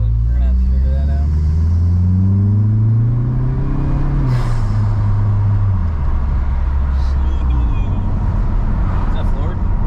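A Mazda 3 turbo with a Corksport 80mm exhaust revs up and settles back, a loud close rumble rising and falling once, with people talking over it.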